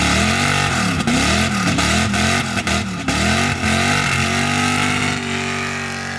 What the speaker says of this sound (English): So this thing just does big,